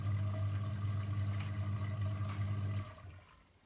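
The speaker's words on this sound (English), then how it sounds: "and that drains all the water out" A Beko washing machine in service mode pumps its water out, a steady humming gurgle of draining that runs close and loud, then cuts off abruptly near the end, leaving quiet.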